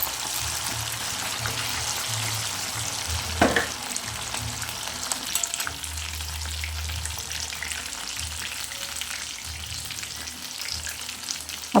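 Quail fries in a pan with a constant, close sizzle and crackle that runs evenly throughout, with a few soft knocks and stirring sounds and no talking.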